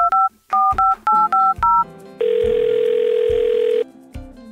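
A battery-powered talking toy mobile phone beeps out a quick run of paired dialing tones, then holds a long steady tone, all loud and close.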